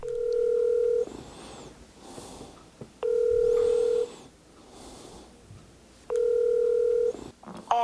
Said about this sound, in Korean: 결국 다시 한번 전화를 걸어보는